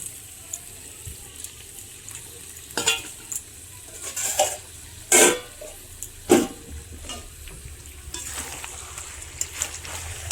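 Fried potatoes added to meat frying in a pot at an outdoor village picnic, with a low sizzle under several loud scraping stirs and clatters of a spoon against the pan.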